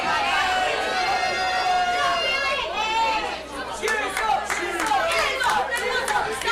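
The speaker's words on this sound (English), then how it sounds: "The crowd letting Kingsley know and letting Myers know exactly what they think of them" A wrestling crowd jeers and boos the wrestlers throughout, a dense roar of voices with shouts rising and falling, while a commentator talks over it.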